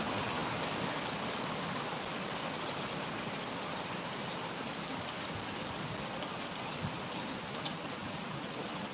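Steady, dense rain pours down in cold, misty weather in Kanchanaburi, Thailand, a continuous, even hiss of drops with no voices over it.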